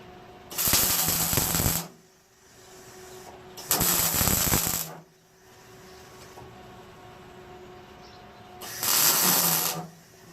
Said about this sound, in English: Just like that, she's welded in place and the second part is done.